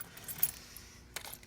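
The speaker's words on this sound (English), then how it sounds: "dig through it to find the blank sets of keys" Sets of blank keys jangling as they are sorted at a locksmith's rekeying bench, with soft metallic rattles and a brighter clink near the end, faint and close with no talk.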